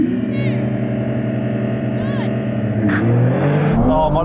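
Racing video game car launching off the line and accelerating, a steady loud engine drone rising in pitch over four seconds with brief tire and effect noises, while a person talks over it.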